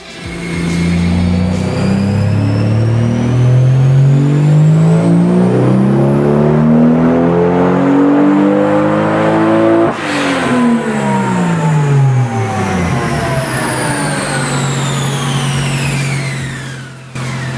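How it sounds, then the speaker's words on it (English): A Toyota Supra with factory twin turbos running higher-ethanol fuel roars through a full dyno pull, its engine note climbing steadily, briefly dipping, then climbing again, loud and close throughout. "I did another pull with the higher ethanol content."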